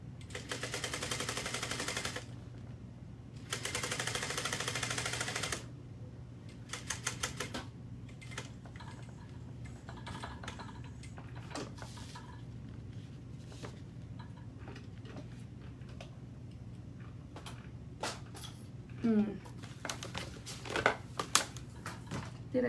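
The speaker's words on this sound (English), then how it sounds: "sew these down. I'm going to, my stitch length is still at a 4." A domestic sewing machine set to stitch length 4 runs in two fast, steady bursts early on, then stops. Softer clicks, taps and handling noises follow.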